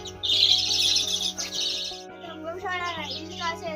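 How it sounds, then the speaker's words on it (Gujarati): Bright high chirps and squawks of parrots, including budgerigars, fairly close at a cow shelter, with a steady hum and faint voices in the background. "ગૌશાળામાં બાળકો માટે પોપટ છે"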